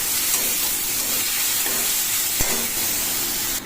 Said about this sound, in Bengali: তো মশলাটাকে খুব ভালো করে কষাতে থাকবো।